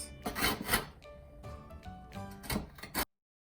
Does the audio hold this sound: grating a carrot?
yes